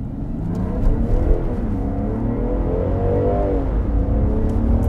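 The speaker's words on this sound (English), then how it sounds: "Start low traction launch control. Okay. We're on a high traction surface, so let's see how this does. Gradually apply the accelerator." 2021 Land Rover Defender 90 accelerating from a launch control start on a high-traction surface, a steady, loud engine drone that climbs gradually in pitch with a constant low rumble and no talking.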